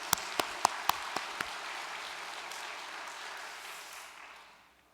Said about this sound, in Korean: 큰 박수 올리도록 하겠습니다